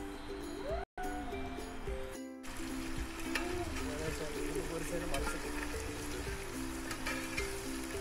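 Marinated pepper chicken pieces frying in hot oil, a dense continuous sizzle close by, broken by a brief cut near the start, with a person talking over it.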